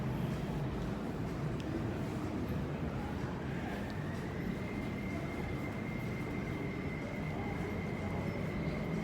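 A Hong Kong MTR train bound for Wu Kai Sha rumbles steadily into Diamond Hill Station, a rising whine settling into a sustained tone as it slows along the platform.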